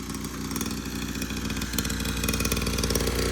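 A motorcycle engine running close by, a steady low throbbing idle with fine rhythmic pulses that grows slightly louder toward the end.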